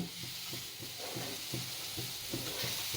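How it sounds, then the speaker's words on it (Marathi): Onion sizzles in a kadhai, with a constant bright frying hiss and steady scraping stirs repeating about twice a second, close and moderately loud, no voices. "कांदा मी टाकणार कढईमध्ये"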